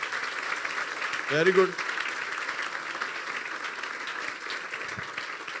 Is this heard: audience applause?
yes